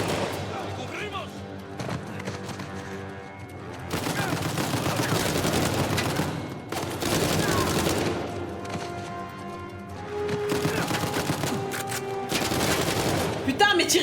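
Video game gunfire in Uncharted 4, repeated bursts of shots and rattling automatic fire in waves with brief lulls, loud and close, with someone talking over parts of it.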